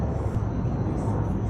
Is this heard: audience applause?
no